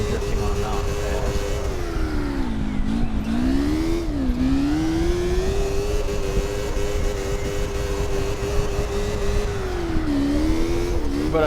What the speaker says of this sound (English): I'm drifting on a mountain pass